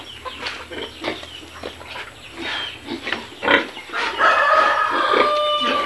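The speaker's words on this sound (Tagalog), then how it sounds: "mga alagang baboy" Pigs on a bentong farm grunting and squealing in a busy, overlapping chorus, with chickens clucking among them, close and loud throughout.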